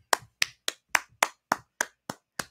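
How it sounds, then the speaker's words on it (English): At a live comedy show, nine crisp hand claps land one after another at a steady, brisk pace, sharp and close, with nothing else audible between them. "put your hands together"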